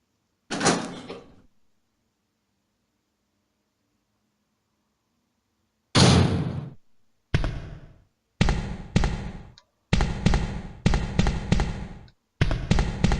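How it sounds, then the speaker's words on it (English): An unlocked door opening in the PlayStation game Resident Evil 3: a loud, close creak and thud, then silence, then another heavy door sound followed by a run of short, evenly spaced clunking bursts. "now we're gonna head through the door back here that we just unlocked"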